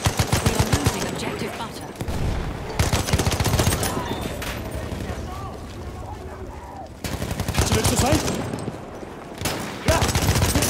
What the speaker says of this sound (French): Là, mitrailleuse ennemie